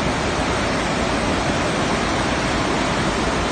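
Floodwater rushing after heavy rain in the Bakhchysarai district of Crimea, a dense, continuous roar of surging water that holds steady and loud throughout, with no voices.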